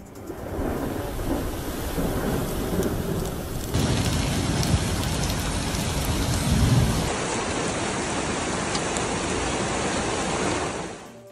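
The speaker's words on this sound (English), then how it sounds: "rain kept falling from gentle to fierce, blanketing everywhere" A heavy storm in Saudi Arabia brings steady, loud rain drumming on surfaces, with low rumbles of thunder rolling beneath the constant downpour, building in intensity partway through.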